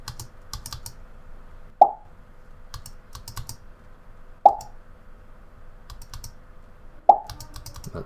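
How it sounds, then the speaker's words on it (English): Short synthetic pop effects from a Scratch game project, three distinct bright plops spaced a few seconds apart over soft keyboard clicking and quiet background noise. "That sounds more like pop to me"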